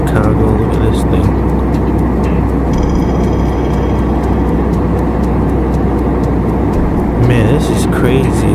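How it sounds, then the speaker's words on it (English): Airplane cabin noise in flight over Chicago fills the scene as a loud, constant low roar and rushing hiss that never lets up, with faint sounds drifting over it. "It comes to us from obviously inside a plane over Chicago."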